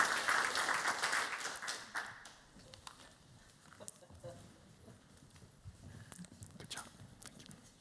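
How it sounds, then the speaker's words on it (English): After presentations at an Asian art academic symposium, the audience gives a round of applause that is loud for the first two seconds and then fades into scattered claps and room noise. "Can I then ask everyone for one last round of applause for our presenters?"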